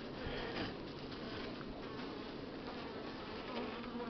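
Dense, steady buzzing of many Buckfast honeybees swarming close by, a continuous droning hum with no talking.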